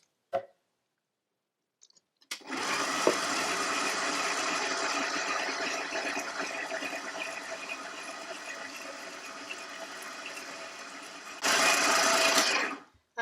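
An electric stand mixer kneading dumpling dough for fried dumplings hums in a steady mechanical whir for about nine seconds, then speeds up to a louder, higher whine near the end.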